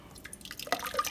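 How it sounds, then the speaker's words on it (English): Barbados cherry juice and pulp poured into a saucepan, heard as a short run of close, irregular drips and splashes that thicken toward the end. "So I'm going to pour this juice and the pulp back into my"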